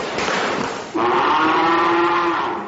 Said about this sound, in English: Tens of thousands of cows are stranded after being saved from the slaughterhouse.